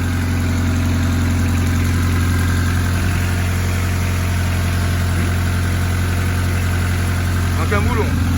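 A car engine that had not run in months idles steadily after starting, a loud, constant low rumble close to the microphone. A voice is faintly heard over it near the end.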